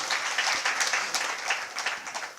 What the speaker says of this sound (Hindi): ये बीच में आपकी तालियां